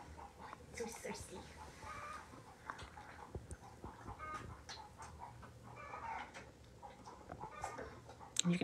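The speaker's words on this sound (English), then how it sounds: "You can hear the chickens outside and they are mad." Chickens outside a barn where a mare has just foaled cluck and squawk agitatedly in the distance, a busy, uneven chatter of several birds, faint under low background noise.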